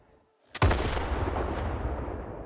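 An RPG-7U rocket launcher fires in STALKER 2: a single loud, sharp blast after a short silence, followed by a long rumbling roar that fades slowly.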